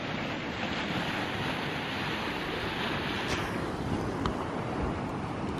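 Sea waves wash and crash against the rocks of an island shore, a continuous broadband surf roar with wind noise, moderately distant and steady, with no talking.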